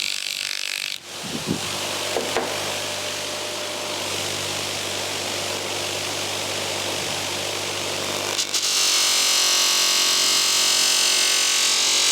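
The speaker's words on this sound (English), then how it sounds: "I've been polishing the camshaft and it doesn't look too bad." An old rusty engine camshaft is polished with a power tool, giving a continuous loud whirring, grinding drone with a steady hum. It shifts to a brighter, harsher tone near the end, with no voices.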